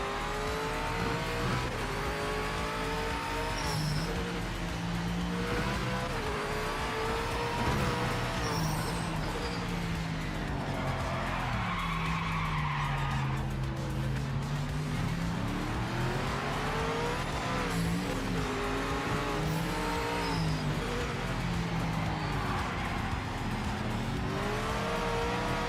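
A race car in the Project Motor Racing video game drives hard, engine revving up and down through gear changes with brief tire skids and squeals, a loud steady in-car roar lasting the whole stretch without voices.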